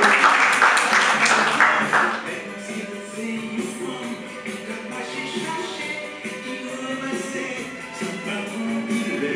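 Applause from a crowd at a beauty pageant semi-final swells at first, then settles into lighter, continuing clapping, with a presenter talking over it.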